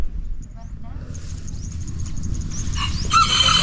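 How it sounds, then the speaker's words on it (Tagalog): Rural outdoor ambience beside rice paddies, with birds calling and a rooster crowing in the distance, alongside low rumbling background noise. "May mga ibon no."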